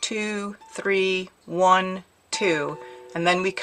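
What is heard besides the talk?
No everyday noise stands out behind the speech.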